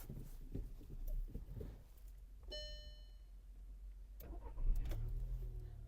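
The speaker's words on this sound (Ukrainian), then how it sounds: "Давайте запустимо двигун." A Volkswagen Golf Plus with a cold 1.6 MPI petrol engine: a dashboard chime rings briefly, then the starter cranks and the engine catches, settling into a low, steady idle close by.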